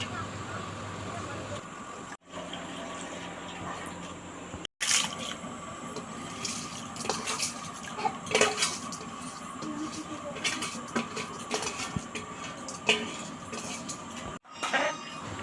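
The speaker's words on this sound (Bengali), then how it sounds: "তো চালটা ভালোভাবে বেছে নিয়ে এবার ধুয়ে নিতে হবে।" Gobindobhog rice is washed in water in a pot, with faint, intermittent splashing and trickling and a few soft knocks, quiet and close, under occasional talk.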